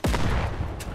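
A short, punchy burst of Fortnite gunfire opens with a close, heavy shot, followed by a quick rattle of further rounds and a faint crack near the end.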